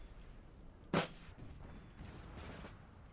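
A single loud cannon blast booms out in Napoleon Total War, a sharp broadband crack with a short rumbling tail, followed by a low, steady battlefield din.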